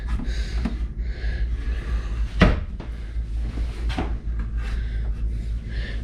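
Pull-out trash can drawer on ball-bearing full-extension guides in a tiny house on wheels kitchen, giving one sharp thump of opening amid quieter handling rustles and clicks in a small room.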